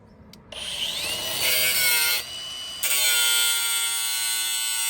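An angle grinder bites into a metal part for an RV trailer hitch hooked to a Thar Roxx, a loud close whine that surges, dips briefly, then resumes at a steady high pitch.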